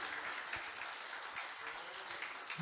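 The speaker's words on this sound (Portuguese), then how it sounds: "Vamos aplaudir a Ele?" A church congregation applauds during a Pentecostal sermon, continuous scattered clapping heard at a moderate distance, fairly faint and steady throughout.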